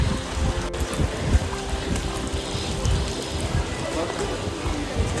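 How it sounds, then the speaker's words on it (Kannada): Continuous rain pours down during a trip in Bali, a close, hissing patter that never lets up, with faint indistinct voices mixed into the wash. "ಮಳೆನ ನಾವು ಬಿಡ್ತಾಯಿಲ್ಲ, ನಮ್ಮನ್ನ ಮಳೆ ಬಿಡ್ತಾಯಿಲ್ಲ."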